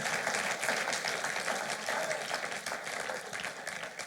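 A church congregation applauding and cheering for the Lord during a French-language sermon, steady dense clapping throughout, moderately loud and continuous.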